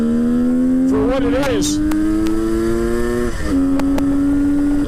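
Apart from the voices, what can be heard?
H2 750 motorcycle engine revving on a ride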